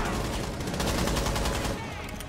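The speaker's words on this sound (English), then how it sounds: "That was all hip fire." Rapid hip-fire gunfire in the video game Rainbow Six Siege during a Terrorist Hunt mission, a dense close burst of repeated automatic shots that fades toward the end, with talk faintly underneath.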